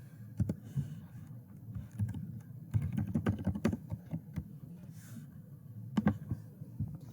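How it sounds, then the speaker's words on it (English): Steady clattering keystrokes on a computer keyboard as login details are entered, close and continuous with irregular rhythm over a low room murmur, no talking. "type in your lunch number for your username and your password and click sign in"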